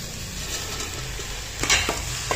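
Soya chunks, peas and mushrooms for a vegetable curry being stirred in a pan, a steady close sizzle under a few sharp scrapes and knocks from the spoon near the end.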